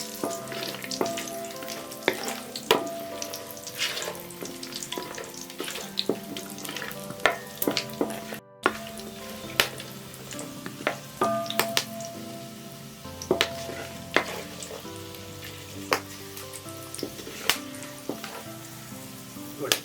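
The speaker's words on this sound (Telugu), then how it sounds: "రెండు బిర్యానీ ఆకులు లవంగాలు వీటన్నిటిని కొంచెం లో ఫ్లేమ్లో పడకుండా ఫ్రై చేసుకుందాం" Bay leaves and cloves fry gently in a pot over a low flame, giving a soft steady sizzle. Frequent metallic clinks and scrapes of stirring and utensils sound close by, and there is no talk.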